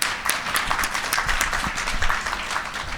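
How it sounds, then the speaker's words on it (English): A conference audience applauds, a dense, steady wash of many hands clapping throughout, fairly distant and even, with no speech over it. "Please give them a warm round of applause."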